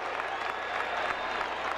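Stadium crowd at Fenway Park during a 2003 AL Division Series playoff game between the Red Sox and Athletics, cheering and applauding steadily in a dense, continuous roar with a broadcast announcer faintly present.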